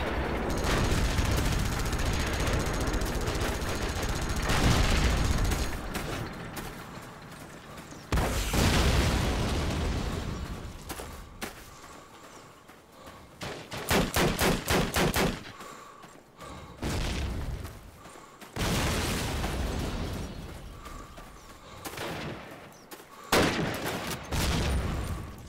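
Battle sounds from the Call of Duty United Offensive video game on the Italy base assault map: scattered rifle shots, rapid bursts and booming explosions come in waves with quieter gaps between them.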